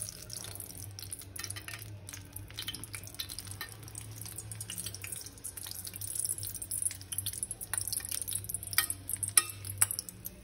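Spoon stirring a papad churi mixture with ghee, a soft continuous scraping and wet mixing, steady and close with light clicks and drips throughout, no voices.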